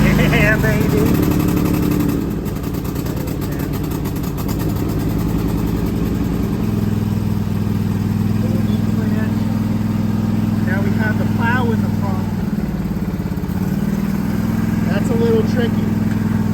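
A lawn tractor engine fires up from a very cold start and settles into a steady, loud idle with a drop in pitch midway, close by, while someone talks over it.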